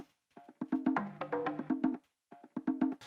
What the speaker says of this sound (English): so that might be a djembe, a conga, a bongo.